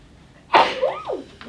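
A single person sneezes once, close and sharp, with a quick burst followed by a short trailing breath, alone with no talking.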